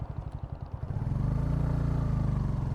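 A Bajaj Pulsar N160 motorcycle pulls in third gear on a road, its engine note rising from a choppy putter into a steady, loud drone close by.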